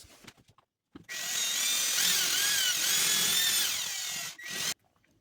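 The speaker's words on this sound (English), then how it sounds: "We're going to glue it and screw it." A power drill drives a screw into a glued wood miter joint, giving one steady, close, high whine that lasts about three and a half seconds and ends abruptly, with no voices.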